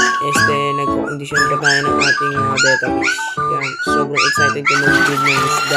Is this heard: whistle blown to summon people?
no